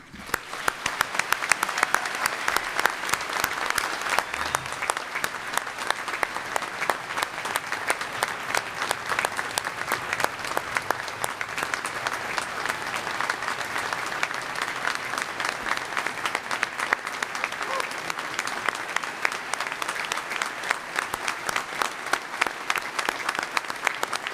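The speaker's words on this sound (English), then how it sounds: "but I ask for a round of applause for Dr. Jim Newman." Sustained applause fills a hall at a fall graduation ceremony, a dense, even crowd clapping that continues for over twenty seconds at steady strength.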